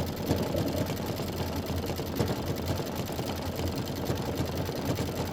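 A sewing machine runs continuously on a quilting stitch through a snowman quilt block, a steady rapid mechanical whir with fine repeating needle pulses and no talking.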